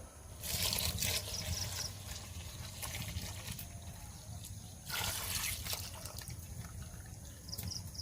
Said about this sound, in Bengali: এবার ওর মধ্যে আমি দুধটা দিয়ে দেবো